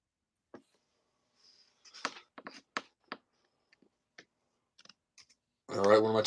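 Sparse, light clicks of a computer keyboard come in scattered bursts during a remote tech support call, set against near silence, with a short burst of speech at the end.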